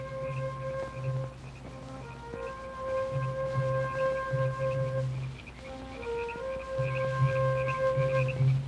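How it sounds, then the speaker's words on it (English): At night a dog howls in long, drawn-out wavering tones, rising and falling repeatedly over a constant background hum, fairly distant and without talk. "Must you bark at every jackrabbit?"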